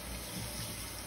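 Cool tap water running steadily into a sink while dyed fabric is rinsed, a soft, even splashing hiss heard alone and close.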